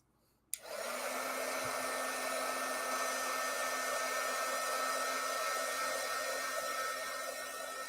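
A heat gun switches on with a sharp click and blows steadily and loudly to seal glitter on a stamped card, a constant airy roar with a low hum running unbroken to the end.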